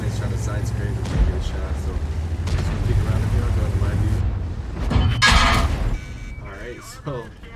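Tank cannon shots and shell impacts in a video game battle featuring the AMX M4 mle 51 heavy tank: heavy booms and crunching hits over a low engine rumble, with one loud blast near the middle, under a player's talk.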